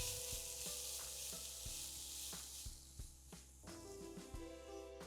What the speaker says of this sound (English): Stir fry this on high flame for a minute.